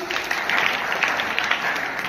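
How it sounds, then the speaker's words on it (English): Students in a classroom clap together after a social studies lesson, a steady, moderately loud patter of many hands with slight rhythmic peaks and no talk over it. "Clap for them."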